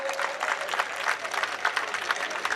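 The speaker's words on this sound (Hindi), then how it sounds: "जरा जोरदार ताली बजाकर" Dense, continuous clapping fills a crowd gathered at a chief minister's groundbreaking ceremony in Tulsi Nagar, Indore, sounding close and lively with no speech over it.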